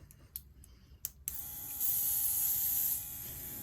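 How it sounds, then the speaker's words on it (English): An airbrush sprays paint onto a clay-sculpted alien head as a brief close hiss. It starts after a few faint clicks and handling knocks and lasts about a second. "So here I am, I'm airbrushing."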